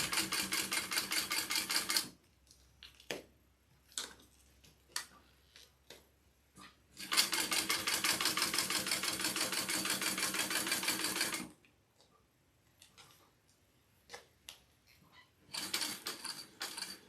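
A home sewing machine stitches fabric in two long steady whirring runs and a shorter final burst, with quiet clicks and handling noises between them, close and alone.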